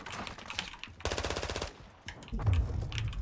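Video game gunfire, a rapid close burst of automatic shots in a tight rattling rhythm, followed by scattered softer clicks and a low thump, fairly faint overall.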